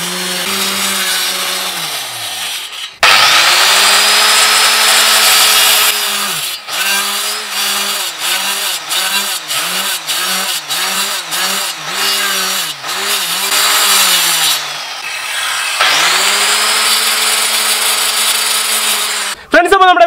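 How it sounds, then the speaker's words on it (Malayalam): A power tool cuts a piece of plywood with a loud, high-pitched motor whine. It revs through one long cut, then a run of short pulsed bursts, then another long cut, with brief pauses between. "ഫ്ലൈവുഡിൻ്റെ പീസ് നമ്മൾ കട്ട് ചെയ്തെടുത്തിട്ടുണ്ട്."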